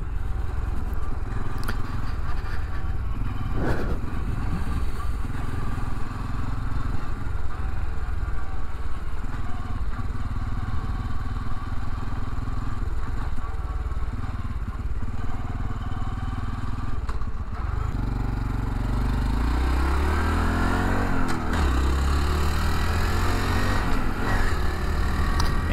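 A 2021 Honda Trail 125 (CT125) motorcycle rides steadily with a continuous close engine drone and wind rush, and the pitch shifts near the end as the rider works the throttle and gears.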